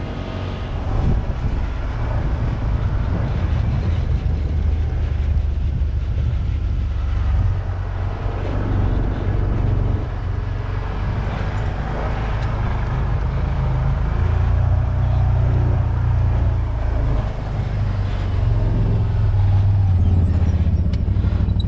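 A Can-Am Maverick side-by-side heads downhill on a trail near Sawmill Station, its engine rumbling loud and steady throughout, with gravel and road noise layered over the drone and no talk.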